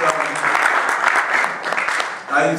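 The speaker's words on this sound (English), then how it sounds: "A round of applause, please." Audience applause fills a press conference after a boxing match at Turning Stone, a steady dense wash of clapping that dips briefly and swells again near the end.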